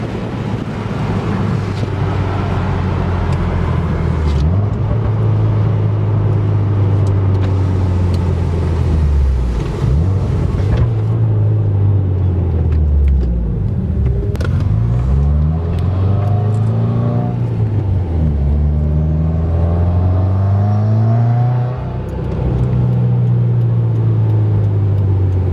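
A loud Subaru WRX Stage 2 engine heard from inside the cabin with windows up rises and falls through repeated revs, with a steady road and wind rumble underneath throughout.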